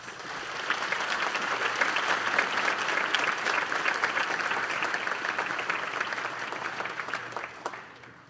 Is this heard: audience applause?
yes